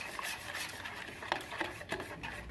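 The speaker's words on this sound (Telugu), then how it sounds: "అన్నీ బాగా మిక్స్ అయ్యి వైట్ కలర్లో వచ్చే వరకు బాగా బీట్ చేయాలి" A homemade hair conditioner of egg white, lemon juice and coconut oil is beaten in a bowl, faint soft scraping and whisking strokes with a few light clinks, close and steady with no talk.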